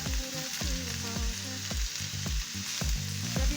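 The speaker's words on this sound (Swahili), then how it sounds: "You also give it a nice stir." Vegetables with green capsicum sizzle in a pan under a steady frying hiss, as a utensil scrapes and taps through them in a regular rhythm of roughly two strokes per second, close and moderately loud.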